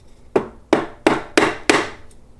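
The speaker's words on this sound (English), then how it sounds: "So I'm going to use a block of wood and just gently tap." A Sherman tank pedal being tapped out of its hanger with a wood block: five evenly spaced, firm knocks, each a dull woody thud with a short ringing tail, close by and otherwise quiet.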